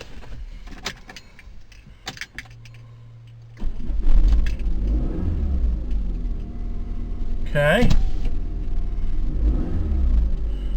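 Keys jangle and a starter clicks before a 2006 PT Cruiser engine turns over and catches, then settles into a steady close idle; a voice speaks briefly. The engine has a camshaft position sensor fault and the engine light is on.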